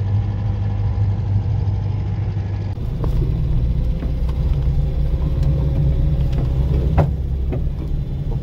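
A Renault R4 engine idles at a slightly high speed, a steady close mid-pitched rumble running unbroken throughout with no talk.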